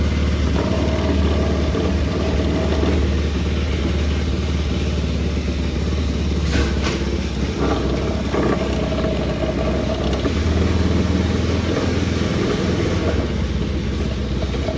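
The engine of a Kandi 150cc go-kart runs loud and continuously up close, a steady rough drone with slight rises and dips and no talk.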